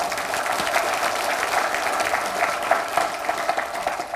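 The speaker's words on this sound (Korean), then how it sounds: "우리 한번 박수 한번 보내주시기 바랍니다" A staff audience at a monthly assembly claps steadily, a continuous crowd applause at even volume from start to finish.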